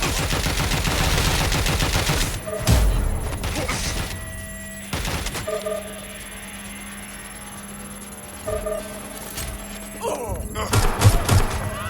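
Gunfire in the Watch Dogs video game: bursts of shots and thuds from a heist firefight, loud at the start, then sparser impacts and a renewed flurry near the end over a steady background hum.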